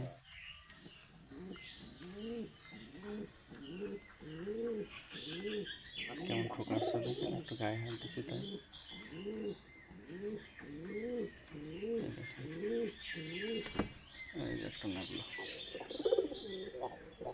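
Pet pigeons coo close by in a rhythmic series of throaty, rising-falling calls repeated over and over, while someone talks quietly between and over them.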